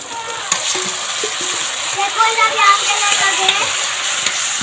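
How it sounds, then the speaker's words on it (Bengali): Taro greens (kochu shak) tipped into hot oil with onion, a loud, steady frying sizzle with bubbling crackle that swells and holds, plus occasional light utensil knocks. "এবারে দিয়ে দিচ্ছি কচুর শাকটা"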